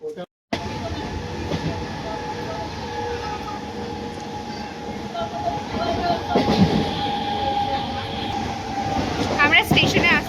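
Train running through a station, heard as a steady rumbling rail noise with rising intensity and squeal-like streaks near the end, voices faintly mixed in.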